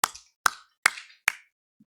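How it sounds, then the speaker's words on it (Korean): Congregation at a church service clapping in unison, four sharp, evenly spaced claps, crisp and close, followed by a faint low thump. "박수 3번 합시다"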